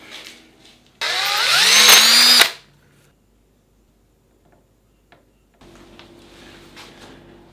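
A power drill bores through pre-lined holes in a faceplate while refurbishing a Boeing 737 MCP panel, one loud whining burst of about a second and a half that winds down, with quieter handling noise before and after.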